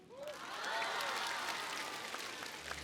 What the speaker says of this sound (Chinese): 再次把掌声送给王鹤野，送给容祖儿